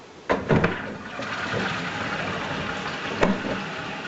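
Water rushes from a tap after the supply is turned back on following a tap kit and 15mm stopcock replacement. It is a steady, loud hiss with a couple of sputtering bursts near the start and again near the end.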